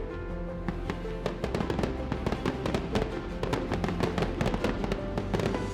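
Fireworks burst in rapid succession, a dense barrage of sharp cracks and booms crackling continuously for several seconds, loud and fairly close.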